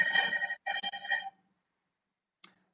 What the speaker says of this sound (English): I'm sorry about that if you heard my phone ringing then